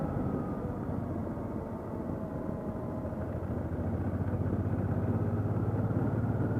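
Honda NT700V Deauville motorcycle engine running steadily at close range with a low, even rumble, a motorcycle with a hesitation problem.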